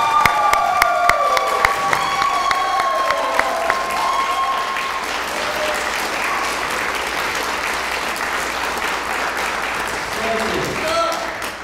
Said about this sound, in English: Please give a big round of applause to our new Eagle Scouts.